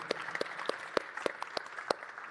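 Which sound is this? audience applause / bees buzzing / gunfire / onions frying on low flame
audience applause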